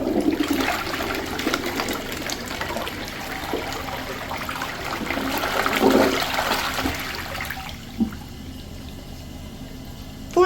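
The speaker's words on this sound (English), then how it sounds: "Let's have a look at a flush." A third-generation Universal Rundle (Crane) Atlas toilet flushes with a loud, steady rush of water that swirls for several seconds, then drops to a quieter trickle and gurgle as the bowl refills.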